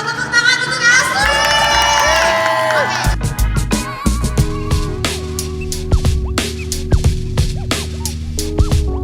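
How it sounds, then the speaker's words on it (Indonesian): An audience cheers and shouts for Ashley, with excited shrieks first, then a run of loud claps and whoops. "Suara tepuk tangan untuk Ashley!"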